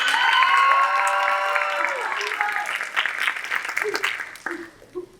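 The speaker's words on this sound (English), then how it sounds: "Can we get another round of applause to the dancers and also our choreographer?" An audience applauds dancers and their choreographer at a pageant, a dense wash of clapping and cheers that starts loud and thins out over about five seconds, with voices and tonal sounds layered over the start.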